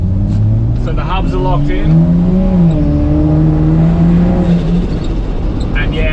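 A Barra-engined Toyota FJ45/80, hubs locked in, drives a closed course at night with a steady engine drone that rises and falls as it revs, while someone talks over it.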